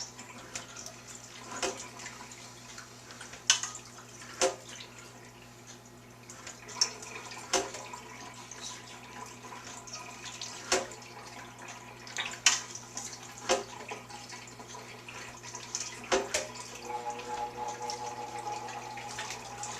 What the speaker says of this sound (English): allowing the water to drip down while squeezing up against the sides